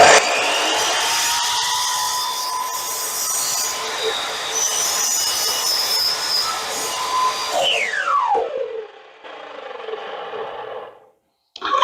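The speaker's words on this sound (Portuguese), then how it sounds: "Baixa a máquina e vai fazendo o corte devagar, mesmo que seja uma madeira leve." A telescopic saw slowly cutting through a piece of light wood, a steady close, loud buzzing grind for about eight seconds that winds down as the blade stops, followed by a brief softer whirr.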